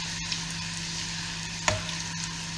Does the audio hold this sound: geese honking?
no